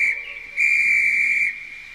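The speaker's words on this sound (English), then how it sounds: "The guard blew his whistle till he had no more breath" A guard's whistle in an animated story, one loud, steady, shrill blast held for about a second after a brief softer toot, with no talk.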